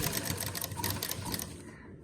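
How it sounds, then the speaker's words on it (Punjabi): A sewing machine runs steadily while stitching a finishing strip along a shirt hem, with rapid, even needle beats close and loud, and the motor slows and stops near the end. "ਹੁਣ ਆਪਾਂ ਸਲਾਈ ਪੂਰੀ ਕਰਦੇ ਆ"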